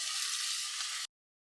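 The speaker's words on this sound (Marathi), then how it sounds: "बटाटा छान तांबूस रंगावर आपल्याला तेलामध्ये फ्राय करून घ्यायचा आहे" Potato pieces frying in a few spoonfuls of hot oil in a pan, a steady bright sizzle for about a second before cutting off abruptly, close and fairly quiet.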